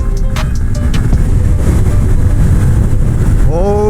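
A Yamaha FZ-S V3 motorcycle rides along a road, its engine a loud, steady low rumble mixed with heavy wind buffeting and a brief rising tone near the end.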